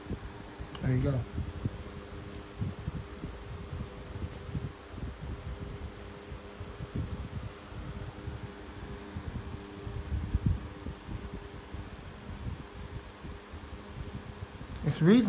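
A small USB- or battery-powered 10-inch box fan pushes a soft, steady airy whoosh close to the microphone, with brief bumps of handling and someone talking faintly over it.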